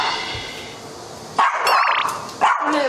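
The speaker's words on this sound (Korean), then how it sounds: "현관 앞에 도착하자마자 요란스럽게 들려오는 개 짖는 소리" A dog barks loudly behind a front door in an apartment in Incheon. A couple of sharp, close barks break out after a quiet stretch, with no talk over them.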